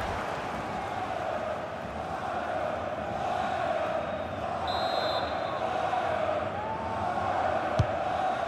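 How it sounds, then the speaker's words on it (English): FIFA 23 stadium crowd from a Bayern Munich versus Frankfurt Bundesliga match: a dense, continuous roar of massed fans holding steady throughout, with a whistle-like tone near the middle and a sharp knock near the end. "the crowd are driving their team on here"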